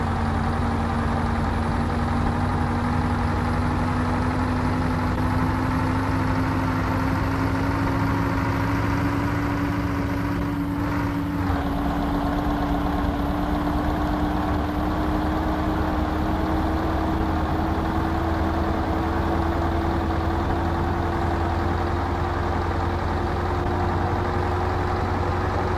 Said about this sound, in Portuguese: Pelo som do motor que a gente tem que se basear nas mudanças